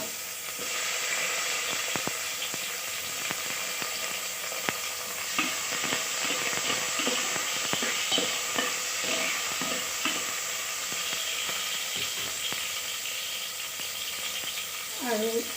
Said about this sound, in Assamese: তেল গৰম হোৱাত মই ডালচেনি আৰু লং দি দিছোঁ আৰু লগতে দি দিছোঁ বিলাহী।